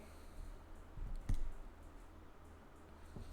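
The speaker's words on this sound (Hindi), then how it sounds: "इधर जस्ट क्लिक करते हैं कंटेंट पे" A computer mouse gives a single soft click near the middle, then fainter ticks, close up over a low room hum, with no talking.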